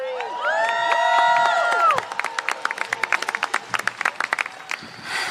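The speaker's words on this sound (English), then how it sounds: "Let's give her a round of applause" A rally audience at the People's State of the Union cheers for a speaker: loud voices whoop and shout for two seconds, then turn into brisk, uneven clapping with some cheering mixed in.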